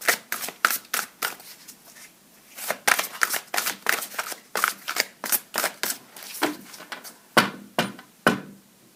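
Oracle cards being shuffled in a steady run of loud, close riffles and slaps, about two per second, with short pauses and no voices.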